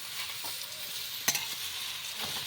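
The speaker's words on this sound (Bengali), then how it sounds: "শাকগুলো শুকনো খোলাতেই আমি 4-5 মিনিট ভেজে নেবো" Chopped spinach stir-fried in a dry pan, giving a soft, steady sizzle with scraping stir strokes and one sharp clack of the spatula midway.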